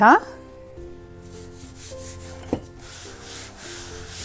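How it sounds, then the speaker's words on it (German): A rolling pin works biscuit dough for orange Christmas cookies, giving a soft continuous rubbing and rolling sound, close and fairly quiet, with a brief clatter midway. "Und dann können wir ausrollen. Und wir rollen den Teig auf 3 mm."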